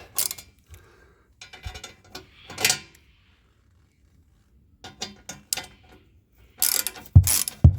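Screws are backed out of a cover on a BMW R18 Transcontinental motorcycle with a ratcheting tool, heard as short, sharp bursts of close mechanical clicks separated by quiet pauses, with no talk.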